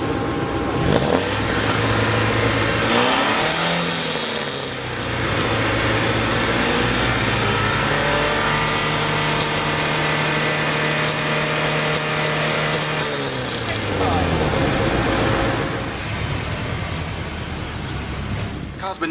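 A small Lancia's engine revving hard at a Goodwood track day noise test, rising and falling through repeated sustained revs, loud and close, with a brief dip and buildup before another long high-rev hold.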